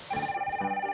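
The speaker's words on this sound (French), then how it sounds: "La sonnerie d'une nouvelle intervention" In the firefighting simulation game Gamorsec, an electronic ringtone announcing a new emergency call pulses in a rapid, steady repeating tone, clear and prominent for its whole brief length.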